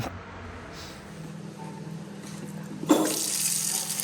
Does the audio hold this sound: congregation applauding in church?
no